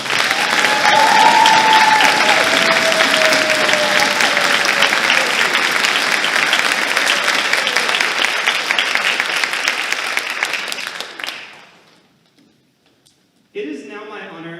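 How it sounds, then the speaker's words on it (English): A high school spring orchestra concert audience bursts into strong, sustained applause that slowly fades out near the end, followed by a brief moment of quiet before a voice begins speaking. "Let's join in a round of applause"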